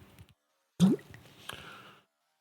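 Bourbon splashes out of a freshly opened single cask corn bourbon bottle, one sudden wet burst followed by a softer dribble and a small drip, close and brief.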